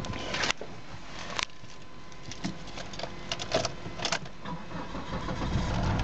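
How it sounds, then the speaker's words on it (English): A Volvo XC70 engine cranks and catches, then settles into a steady idle, heard at moderate level with some rattling and clicking from inside the car. "Vehicle starts nicely,"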